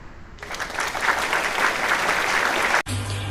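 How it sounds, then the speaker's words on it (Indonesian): An audience at a school debate event claps for the debaters, a dense, even round of applause starting after a brief pause and ending abruptly. "Boleh tepuk tangannya?"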